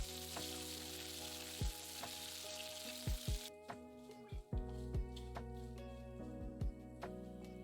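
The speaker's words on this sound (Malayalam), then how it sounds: "എണ്ണ ചൂടാകുമ്പോൾ അതിലേക്ക് 1/2 ടീസ്പൂൺ കടുക്, 4 വറ്റൽമുളക്, കുറച്ച് കറിവേപ്പില ഇതെല്ലാം കൂടി ഇട്ട് മൂപ്പിക്കുക." Mustard seeds, dried red chillies and curry leaves crackle in hot coconut oil for a Kerala banana pulissery tempering, a loud sizzle that drops off midway, leaving sharp popping seeds and scattered spattering bursts.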